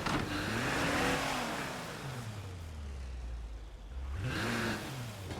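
A car in the video game State of Decay 2 accelerates and drives away, its engine revving up through the gears, easing to a lower steady drone, then climbing again in a fresh rev, loud and close with no talk.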